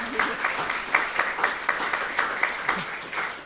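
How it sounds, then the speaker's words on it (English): A studio audience gives a round of applause, loose clapping with distinct individual claps pulsing through a few seconds, fairly close and moderately loud. "A round of applause."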